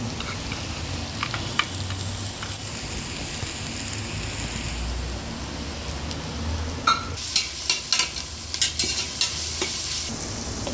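Ginger and garlic sauté in a pan with salt for a chicken curry, giving a steady sizzle and fry with scraping stir strokes growing louder and busier toward the end.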